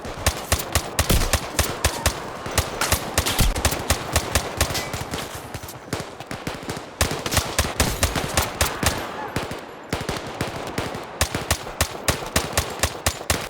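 Rifles fire loudly in Zero Caliber VR, rapid sharp shots crackling in long automatic bursts with only brief pauses between strings.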